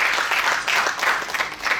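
An audience at a stand-up slam show claps in brief, uneven bursts, a short, close patter of applause that rises and dips in waves.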